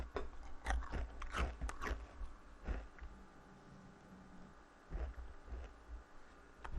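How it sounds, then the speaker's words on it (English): Someone chewing and biting food close to a microphone during a Final Fantasy XIV game stream, a few crunchy bites at the start then quieter intermittent chewing, faint and without talk. "Oops, I'm sorry, my chewing sounds are on full display."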